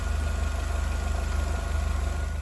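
A VW Golf GTI engine idling steadily during a cooling system coolant flush, a close, even low rumble with a regular fast pulse and no voices.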